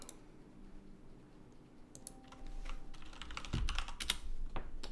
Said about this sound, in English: I keep typing